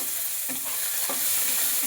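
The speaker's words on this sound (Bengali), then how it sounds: "এবার পেঁয়াজ কুচিটাকে ভালো করে লাল লাল করে ভাজা করে নেব" Loud, steady sizzling of chopped onions frying, with two brief scraping stirs of a spatula.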